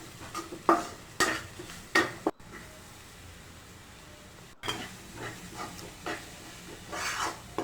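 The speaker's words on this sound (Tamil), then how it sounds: "ஓப்பன் பண்ணி கிளறி விட்டுக்கலாம்." A spoon stirs snake gourd stir-fry (pudalangai poriyal) in a pan, giving a few scraping clinks against the metal, then a quiet pause and more soft, irregular stirring scrapes with a faint sizzle.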